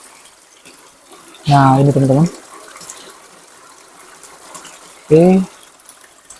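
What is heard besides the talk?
water flowing from two spouts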